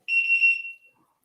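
A vehicle alarm, on a bike, sounds a single steady high electronic tone for under a second, loud and close, then cuts off, with no talking.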